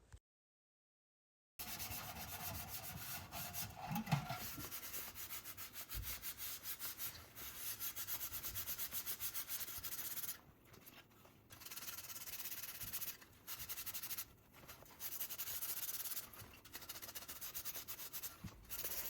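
Caked grease on a drip pan is scrubbed with Pink Stuff paste: close, steady gritty rubbing strokes that run in long stretches with brief pauses, alone and without talk.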